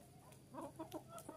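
Soft, short clucks from laying hens being taken out to graze, a few scattered calls in quick succession, moderately close but fairly quiet.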